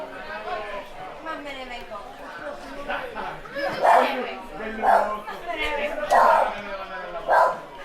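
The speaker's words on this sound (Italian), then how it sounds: "Qui si sente tutto, anche il cagnolino." A small dog yaps in sharp, repeated bursts, about four clear barks in the second half, close by, while people chat in the background.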